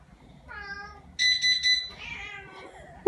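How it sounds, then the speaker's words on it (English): Cats meowing at home, several drawn-out mews in a row, the last three loud and close, with a brief voice and a sharper cry at the end. "Here are the cats."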